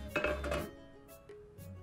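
A cooking pot is lifted and set down in a home kitchen, giving a few quick metallic clanks and a ring up front. Softer knocks and scrapes of cookware follow, with no voices.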